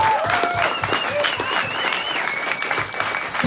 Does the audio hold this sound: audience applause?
yes